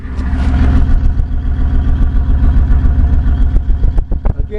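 2006 Crown Victoria Police Interceptor exhaust at a rough idle, close and loud, a steady low throb with an uneven, pulsing loping rhythm, with a few clicks and knocks near the end.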